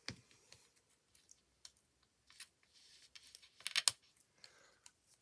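Scissors cutting very sticky red liner tape at a craft table, a sparse series of quiet, close snips and clicks with short gaps, growing into a cluster of sharper cuts near the end.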